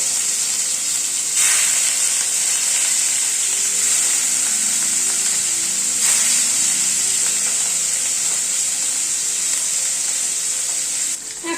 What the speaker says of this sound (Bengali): কড়াইতে সরষের তেল দিচ্ছি। তেলটা গরম হওয়ার পরে মাছটা ছেড়ে দিচ্ছি।